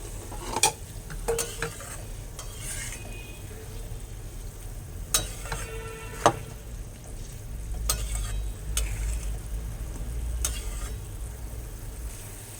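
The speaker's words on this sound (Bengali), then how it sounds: "ঝোলটা ফুটে উঠেছে, এবারে আমি কতগুলো কাঁচা লঙ্কা দিয়ে দেবো।" Fish curry gravy bubbles in a pan as green chillies are dropped in, with a soft steady simmer, a few sharp clinks and scrapes of a spoon, and a low rumble underneath.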